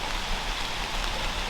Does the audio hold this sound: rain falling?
yes